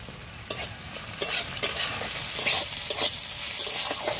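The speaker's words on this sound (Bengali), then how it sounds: "পেঁয়াজটা হালকা হালকা ভাজা হয়ে গেছে," Chopped onions with a little salt fry in a pan with a steady close sizzle, broken by repeated scraping strokes of a spatula stirring them.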